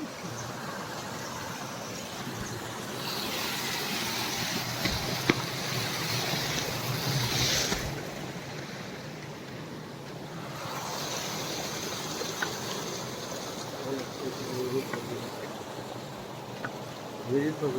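Water gushing from a running pump motor and falling into a newly dug well makes a steady, broad rushing roar that swells and eases slightly over time, with faint voices in the background.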